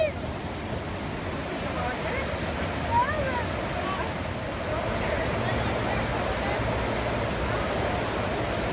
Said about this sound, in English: There's the Provo River.